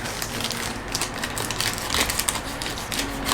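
An Amazon package is torn and crinkled open up close, with dense crackling of plastic or paper and a few sharper rips over a steady rustle, with no talking.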